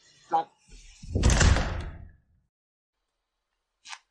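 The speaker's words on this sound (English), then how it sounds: "Slam the door." A door slams shut in a short burst of heavy thudding impact and rattle lasting about a second, preceded by a brief sound and followed by a short faint click.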